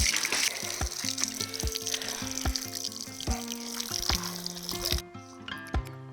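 A tap runs steadily in a home kitchen as water is drawn for drinking, a continuous hiss with light splashing under soft tonal notes, then the flow cuts off near the end.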